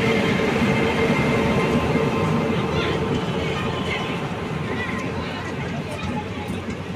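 A Chennai to Thiruvannamalai passenger train rumbles past loudly and steadily, its roar fading slightly toward the end, with voices faintly audible beneath the noise.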